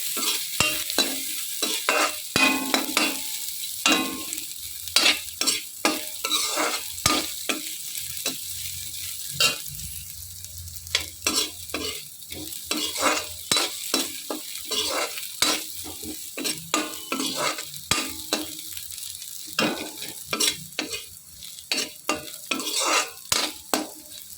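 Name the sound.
coconut being fried and stirred in pan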